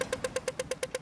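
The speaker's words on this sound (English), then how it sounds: "a sample of an Australian traffic light crossing sound" Australian pedestrian crossing signal at a traffic light, ticking in a fast, steady rhythm of nine sharp, evenly spaced clicks in a second, each with a bright ringing tone, heard up close and alone.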